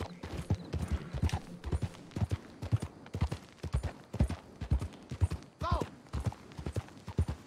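Horse hooves clip-clop steadily while riding in the video game Red Dead Redemption 2, a run of rhythmic, fairly close thuds heard under intermittent talk, with a brief whinny-like tone near the end.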